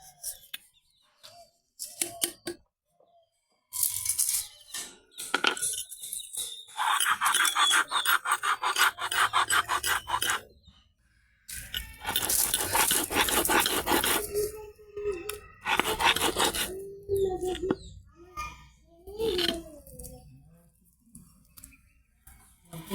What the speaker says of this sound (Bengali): চিংড়ি মাছ আর বুটের ডাল বাটিয়ে নেব।